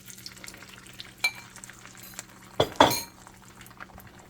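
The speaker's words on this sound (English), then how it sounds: "we're going to take our eggs that we mixed up. Go ahead and throw those in." Beaten eggs go into a hot buttered pan for scrambling, giving a soft sizzle with a light clink of utensil on cookware, then a louder splashing hiss as the eggs hit the pan, fading to quiet frying.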